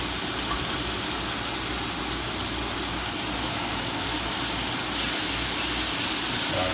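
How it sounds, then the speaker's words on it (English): A loud, steady mechanical whoosh of a microwave's ventilation fan fills the kitchen, constant and close with no pauses. "The air vent is making a lot of noise."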